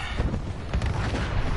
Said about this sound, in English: Total explosions going on here.